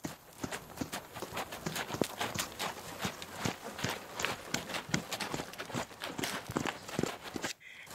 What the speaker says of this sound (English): That's a beautiful trot, Lucky.